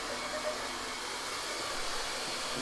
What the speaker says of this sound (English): I'm gonna blow dry your hair.